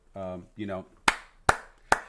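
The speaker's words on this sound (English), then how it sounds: "He's clapping hard." Someone claps hard, three sharp, loud, evenly spaced claps close by, following two short vocal sounds.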